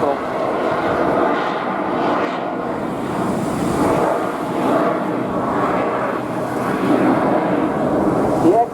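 A modified display aircraft with altered wings, tailplane and rudder flies at the Blackpool air show, its engine giving a steady broad roar that holds throughout, mixed with wind rush.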